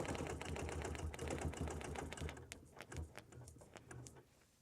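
A sewing machine stitches in rapid bursts while ruler quilting, running steadily at first and then breaking into shorter, choppier runs with small clicks and pauses.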